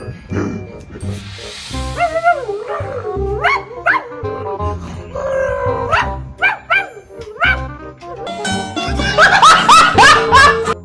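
A dog barks and yips in short, lively bursts close by, some whining and rising in pitch, with people talking and reacting in between and a flurry of louder barking near the end.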